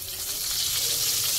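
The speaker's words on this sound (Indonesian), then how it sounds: "Ini ikannya goreng hingga matang." Pressure-cooked milkfish frying in hot oil gives a steady, close, dense sizzle with fine crackle throughout and no voices.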